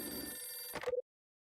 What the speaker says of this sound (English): it's my phone. It's Condor. I better get that.